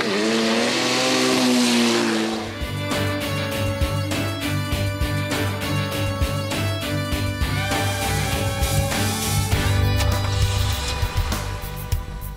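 Drag racing cars and motorcycles at a championship in Catanduva, engines roaring and revving hard as they accelerate down the track, loud and continuous after a brief opening rev.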